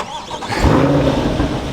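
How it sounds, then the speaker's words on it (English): A 2021 Chevrolet Corvette Stingray C8 convertible's V8 cranks and catches with a loud, close starting burst, then settles into a steady rumbling idle in touring mode. "That V8 roars to life, has a good idle to it already in just the touring mode."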